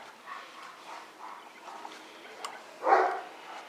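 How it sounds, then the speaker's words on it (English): A pet dog barks at nothing in particular: faint, scattered yips and barks at a distance, ending in one louder bark near the close. "Barking at nothing, I'm sure."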